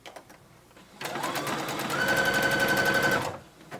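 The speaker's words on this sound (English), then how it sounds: "I'm gonna use like a zigzag stitch to attach it" A sewing machine runs a zigzag stitch to attach a gathered cap sleeve. Its motor whirs up, holds a steady, rapid, close mechanical chatter for about two seconds, then stops abruptly.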